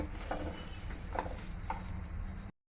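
Cooked rice for pulihora being stirred and mixed by hand with lemon juice and salt in a basin, a soft continuous rustle with a few light taps, close and steady, with no talking.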